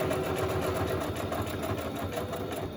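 Sewing machine stitching, a close steady mechanical whirring with rapid rhythmic needle clatter running continuously at a constant pace.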